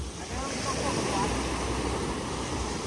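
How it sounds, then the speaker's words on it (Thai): Strong ocean waves wash steadily onto a beach, a broad continuous roar of surf with wind noise buffeting the microphone. "อย่างคลื่นมันแรงแบบเนี้ย"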